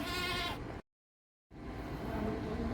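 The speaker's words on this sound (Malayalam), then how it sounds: "നല്ല ക്വാളിറ്റിയുള്ള വളർത്താൻ അനുയോജ്യമായ ആടുകളാണ്" Goats kept for sale in Mavoor, Kozhikode bleat in short wavering cries, one near call, then a sudden silent gap before another softer bleat rises over faint background noise.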